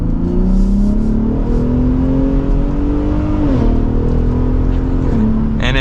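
A 2023 Ford F-150 Raptor with the 3.7 engine accelerates hard from inside the cab, its steady loud drone climbing in pitch and dropping at two clear gear shifts.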